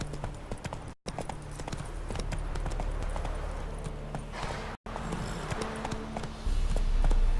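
Horse hooves clip-clopping at a steady riding pace in the video game The Witcher 3, continuous and fairly close, with rustling ambience and no talk.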